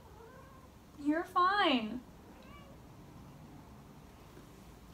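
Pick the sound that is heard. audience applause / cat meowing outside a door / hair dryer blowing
cat meowing outside a door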